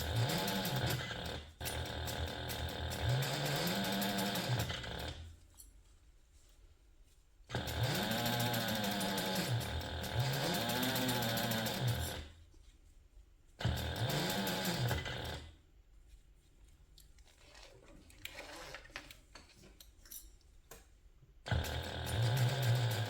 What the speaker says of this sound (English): we're going to base this using a 1/4 inch seam allowance